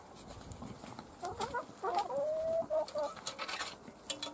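Hens in a backyard garden cluck and squawk in a series of close, uneven calls over about four seconds, with a quiet background between bursts.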